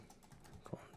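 A few quiet keystrokes on a computer keyboard tap out in about a second, soft and close with a faint background hiss.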